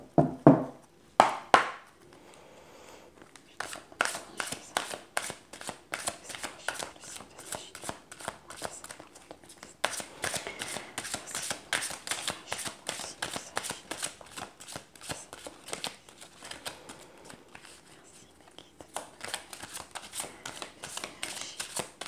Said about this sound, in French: je vais tirer les cartes